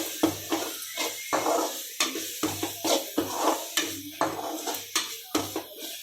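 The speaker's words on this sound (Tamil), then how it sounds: "சேர்த்துட்டு நல்லா ஒரு முறை கலக்கி விட்டுக்கோங்க" A spoon scrapes and clinks in a pan in a steady rhythm of strokes while masala spices are stirred into paneer butter masala, with a soft sizzle underneath.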